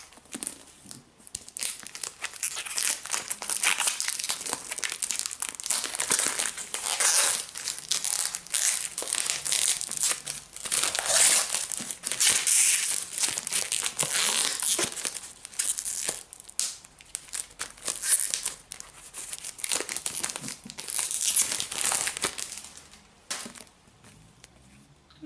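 Plastic wrapping on a Wand Trigger manga starter pack crinkles, tears and crumples continuously as it is opened, close and fairly loud throughout with no talking.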